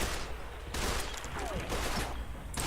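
An assault carbine fires in the video game Fallout 4, sustained rapid bursts of automatic gunfire, loud and dense, with brief pauses between volleys.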